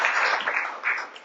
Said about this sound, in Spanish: un aplauso para Sergio